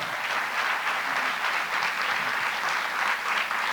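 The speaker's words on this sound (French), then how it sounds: "Vous pouvez tous les applaudir." A sustained burst of audience applause for nominees at an eco-business awards ceremony, with steady dense clapping that fills the whole stretch evenly and no voices above it.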